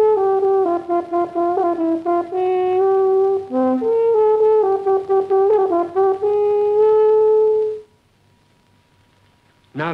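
A hand horn plays the opening phrase of a sonata, connected notes rising and falling, some slightly muffled, ending on a long held tone followed by silence.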